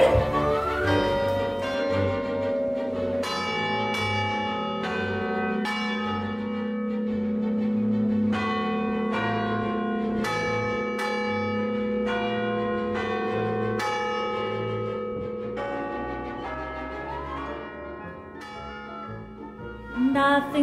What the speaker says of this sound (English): This is really cool because not a lot of people get to ring bells in a church.